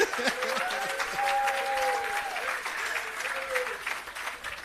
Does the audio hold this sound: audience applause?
yes